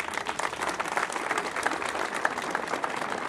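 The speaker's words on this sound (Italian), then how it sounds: "Quindi facciamo loro un bel applauso." Applause rises for the band at a religious procession of the Virgin Mary in Petacciato, a steady, moderately quiet crowd clapping that carries evenly throughout with no voice on top.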